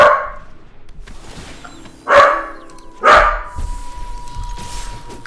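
Two dogs trade barks, a pet and a neighbour's dog: a bark at the start, then two louder, distinct barks about a second apart, with faint whimpering and low room noise between them.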